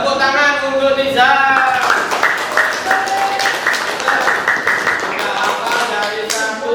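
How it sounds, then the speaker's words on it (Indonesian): Students in a classroom clap for a classmate, a steady burst of applause lasting several seconds, with a teacher speaking over the start. "Tepuk tangan untuk Niza."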